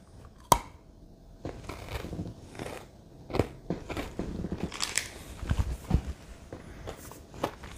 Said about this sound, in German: Gerade dieser Crispy-Knack gefällt mir sehr gut.